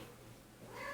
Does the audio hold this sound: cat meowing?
yes